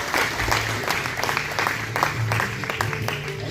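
A community club crowd at a candidates' introduction event applauds, a steady patter of many hands clapping, moderately loud, over a low background hum and faint voices.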